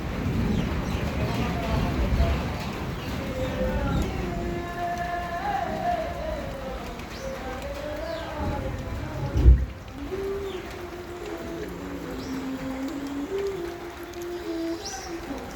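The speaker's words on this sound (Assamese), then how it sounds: "বৰষুণ আজি ৰাতিপুৱাই দিলে।" Steady patter of rain on a surface, with doves cooing softly and faint voices in the background.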